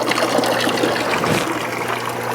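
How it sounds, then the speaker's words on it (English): Water trickling steadily through a siphon after the air pump is switched off, a constant close gurgling flow with a low hum underneath and no voices. "you'll see that the siphon is still going"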